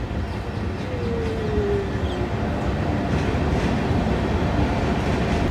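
A train rolls past the Rail Coach Factory halt at Kapurthala, a steady close rumble of wheels and carriages lasting throughout, with a faint squeal briefly rising early on.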